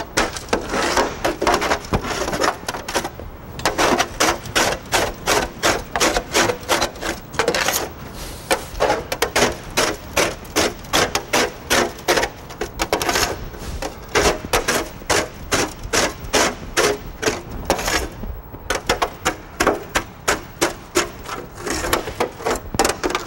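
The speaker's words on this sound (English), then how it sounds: "Once both windows are scraped, re-wet them." A scraper runs across construction window glass in quick repeated strokes, a loud, close, steady rhythmic rasping that keeps going with only brief pauses and no talk.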